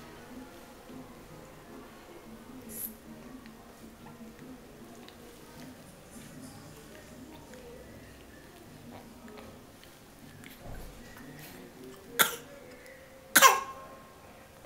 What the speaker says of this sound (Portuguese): Ela chama a atenção da gente tossindo.